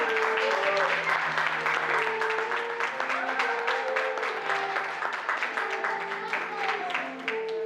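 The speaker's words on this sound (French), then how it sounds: "on peut les applaudir bien fort" Guests applaud after a civil wedding ceremony, a steady patter of many hands lasting several seconds while voices and tonal sounds carry on over it at moderate level.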